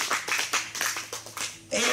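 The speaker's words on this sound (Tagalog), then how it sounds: "Palapakan nga natin ng Lord sa mga nagpahiram sa lugar na ito" An audience at a church gathering claps in quick irregular bursts, rhythmic clapping for about two seconds before a swell of louder sound at the end, with faint voices mixed in.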